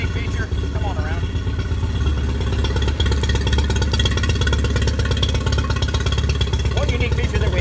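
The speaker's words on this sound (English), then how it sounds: "you can press this button right here and you can basically rev the motor without putting it in gear" A Mercury 20 hp outboard motor runs in neutral and is revved, a steady close mechanical drone and clatter with rising engine pitch, lasting throughout without spoken words.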